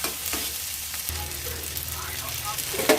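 Chillies sautéing in a pan, a close steady sizzle with soft stirring scrapes and a few brief clinks, no talk.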